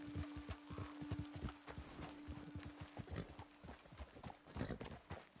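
Horse hooves clip-clopping in Red Dead Redemption 2, several horses moving in a steady, busy rhythm at close range, with a faint background tone and no talking.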